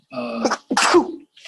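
A single loud sneeze bursts out in a quiet room during a school board meeting, two sharp voiced bursts close together followed by silence.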